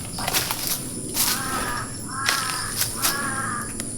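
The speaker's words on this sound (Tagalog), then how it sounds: "May uwak mga kaibigan." A crow caws several times in a row, harsh repeated calls at a moderate distance over light background noise.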